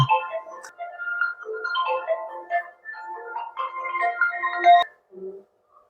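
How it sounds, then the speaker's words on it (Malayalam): A mobile phone ringtone plays a bright, steady electronic melody of repeated tones for about five seconds. It sounds alone and close, then cuts off abruptly. "കാക്കാന്റെ ഫോൺ അടിച്ചിട്ടുണ്ട്"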